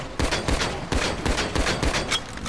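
Gunfire from a weapon in the GTA Online video game, a rapid run of loud, punchy shots repeating at a steady rhythm throughout, close and with no talking.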